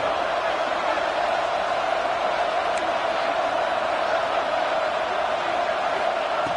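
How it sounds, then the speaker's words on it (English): Stadium crowd noise in the College Football 25 video game swells as fans rally the defense for a red zone stop, a steady, dense roar that holds evenly throughout. "This crowd is trying to inspire this defense to make a big red zone stop."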